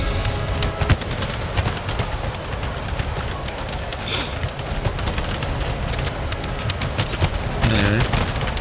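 Musket volleys ring out in an Empire: Total War battle as line infantry and grenadiers clash, a dense crackle of gunfire rolling steadily throughout with heavier bursts near the end.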